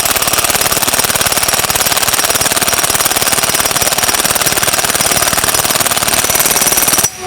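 An adjustable impact wrench on a low setting drives a bolt to draw an impeller onto a pump shaft during a mechanical seal replacement, a loud continuous rapid hammering rattle for about seven seconds that cuts off abruptly.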